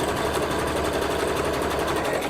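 Sewing machine stitching, a close, loud and even rapid mechanical whir with a steady clattering rhythm throughout.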